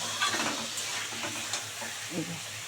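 Cauliflower frying in oil in a pan as peas are added, a steady close sizzle with soft stirring scrapes throughout, no voices.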